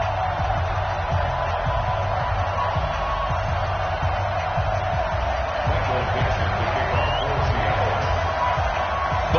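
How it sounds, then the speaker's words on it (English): A stadium crowd roars in an EA Sports NFL video game before a Minnesota Vikings versus Seattle Seahawks matchup, a steady, dense wash of cheering that holds at an even level throughout. "This crowd is ready as their guys get set to match up between the Minnesota Vikings and the Seattle Seahawks."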